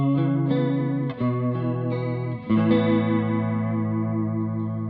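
A clean electric guitar runs through a Walrus Julia chorus pedal, playing sustained chords with a wobbling, vibrato-like shimmer; two brief breaks separate three chord changes, with no voices.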